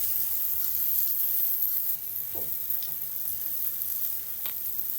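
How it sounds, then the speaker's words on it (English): Burger buns toast on a hot Blackstone griddle with a steady, even sizzling hiss close up, with a couple of faint scrapes and taps. "Our buns just need to toast for a few seconds right before."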